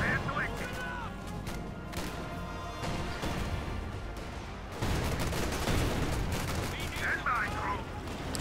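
Gunfire and artillery rumble through a World War II battle in the strategy game Company of Heroes 2. Dense bursts and heavy blasts overlap continuously, with a louder surge midway and brief voices.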